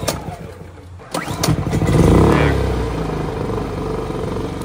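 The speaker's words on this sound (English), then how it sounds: "sometimes it takes a few good pulls to actually get this thing going" EcoFlow Smart Generator engine being pull-started with no choke: a quick yank of the cord, then the small engine catches and rumbles loudly, settling into a steady running drone.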